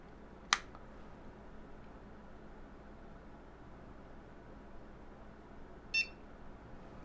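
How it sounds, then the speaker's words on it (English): A Jetway 486 PCI computer motherboard gives a short, sharp power-on BIOS beep, followed by a second brief tone several seconds later, faint against a quiet background hiss. "We get a beep."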